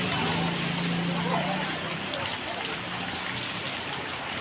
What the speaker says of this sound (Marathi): पाऊस सुरू झालाय